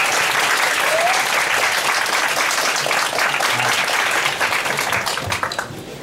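An audience at a talk event in an Osaka bookstore applauds the sound engineer, producing a loud, continuous wash of clapping that holds steady for about six seconds before thinning slightly at the end.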